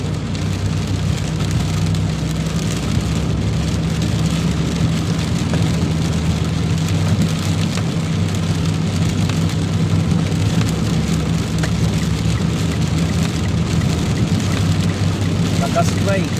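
Heavy rain pours down in Dubai, a dense, loud, continuous hiss of drops hammering surfaces with a low rumble beneath, steady throughout with no pauses.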